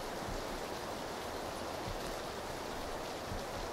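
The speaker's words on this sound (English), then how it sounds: "Can't hear shit in this rain." Heavy rain pours in the game PUBG, a dense, unbroken roar of broadband hiss that stays loud and even throughout, with no voices over it.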